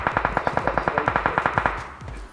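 Rapid automatic gunfire in PUBG Mobile, a loud close burst of about twenty evenly spaced shots lasting nearly two seconds before it trails off into a fading echo.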